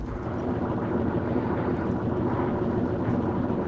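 A helicopter in Call of Duty: Modern Warfare II drones steadily with a constant, rumbling rotor and engine roar that holds the same loud level throughout, with no talking.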